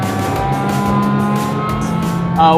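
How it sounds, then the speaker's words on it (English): A race car engine drones steadily on the virtual Mazda Raceway in a racing simulator, holding a sustained tone throughout with a brief rise in pitch near the end, loud and close. "We're here at the virtual Mazda Raceway. Just going out for a nice stroll, see if I can throw down some hot laps with my friend CJ in the car."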